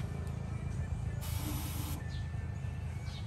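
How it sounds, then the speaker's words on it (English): A water mist pump sprays on an overland tourer built on a Ford Ranger Raptor, giving a brief broadband hiss of about a second over steady low mechanical hum, fairly close. "when you open it, the pump will automatically activate"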